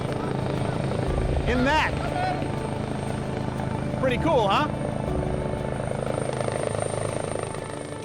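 Steady whirring drone of a helicopter's rotors and engine, heard from inside during a flight in the Faroe Islands, with a person speaking briefly over it.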